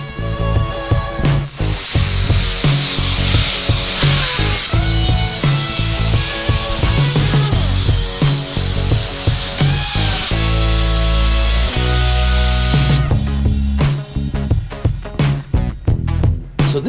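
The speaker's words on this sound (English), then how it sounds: "it's time to switch over to our flap disc. We're going to start out with this 80 grit." An 80 grit flap disc grinds a weld into sheet metal, a loud continuous abrasive whine with steady rasping texture for about thirteen seconds before the grinder cuts out into scattered clatter and scraping.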